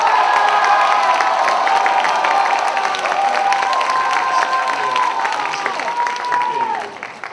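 Loud applause from a crowd at a student fellowship retreat's evening worship service, with cheering and voices mixed in, holding strong before tapering off at the end.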